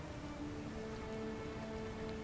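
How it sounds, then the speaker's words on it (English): A waterfall in the video game The Forgotten City gives a steady, faint hiss of falling water, much like rain, unbroken and without talk. "Oh, it's a waterfall."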